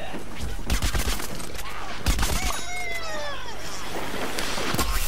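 Rapid video-game gunfire from Plants vs Zombies Garden Warfare, dense bursts of shots with a few louder blasts over game effects and music, steady and close throughout.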